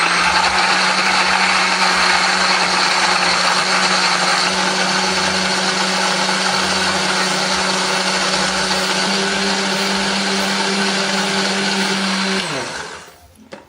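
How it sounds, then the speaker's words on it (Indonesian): A blender grinds candlenuts, turmeric, shallots, garlic and chilies with a little water, a loud steady whir running continuously before winding down at the end. "Tambahkan sedikit air supaya lebih gampang untuk menghaluskannya."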